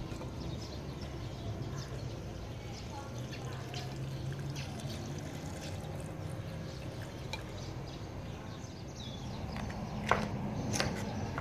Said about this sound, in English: Pour the aqua regia acid into the raw ingredients.